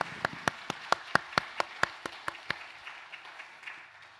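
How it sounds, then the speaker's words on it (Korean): Congregation giving a short round of applause during a Korean church Sunday service, a dozen sharp, evenly paced claps that start strong and fade into a scattered, softer patter. "영광의 박수 올려드리겠습니다"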